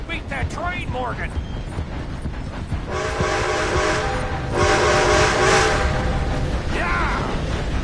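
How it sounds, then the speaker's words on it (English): A steam train rumbles past in Red Dead Redemption 2, loud clattering wheels and a steady roar with a horn blast swelling through the middle, while characters shout and talk over it. "Gotta beat that train, Morgan!"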